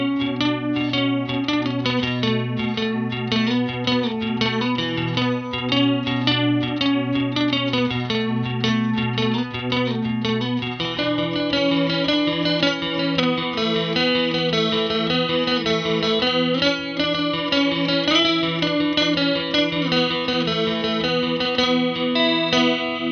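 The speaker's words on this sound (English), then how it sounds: "So here's something that I play with the C Machine." Electric guitar played through a Sea Machine chorus pedal, a steady lush stream of wavering chorused notes and chords with a distorted edge, ringing continuously without pauses and with no talking.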